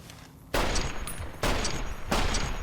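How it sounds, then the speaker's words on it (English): Bozar rifle from the video game Fallout New Vegas fires three heavy, booming shots at roughly even intervals, each with a long ringing tail that carries into the next, loud and close with no talking. "and just sounds like a Barrett 50 cal."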